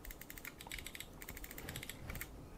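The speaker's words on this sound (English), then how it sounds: "Really nice clicky buttons again." Rapid clicking from the DPI buttons of a Redragon M808 Storm lightweight gaming mouse, a quick run of crisp, close, light clicks in irregular bursts with no talking.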